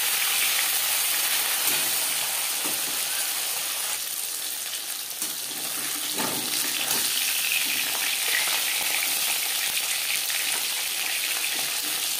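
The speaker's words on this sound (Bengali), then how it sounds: "প্রথম ব্যাচে মাছ ভাজা হয়ে গেছে" A batch of fish fries in oil for a Bengali potato and fish curry, cooked with little oil. A loud, steady, dense sizzle runs the whole time with small crackling bursts and no talking.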